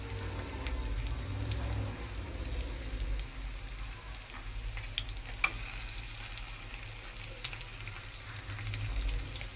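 Onions frying in hot oil in a wok, a quiet, soft sizzle with light crackles and a low background hum, steady throughout with one brief sharp click.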